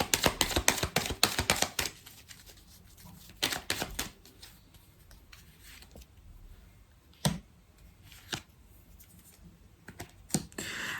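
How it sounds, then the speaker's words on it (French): Tarot cards being handled and laid down to cover others, heard as a flurry of close, sharp card slaps and shuffling clicks at first, then sparser single taps against a quiet background. "Je vais recouvrir certaines cartes."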